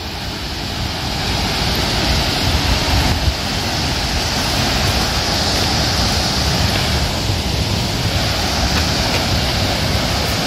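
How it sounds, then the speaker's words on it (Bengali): Mankaradia waterfall, water pouring down from above in a steady, loud, continuous roar with no break over the whole stretch. "উপর থেকে জলটা পড়ছে"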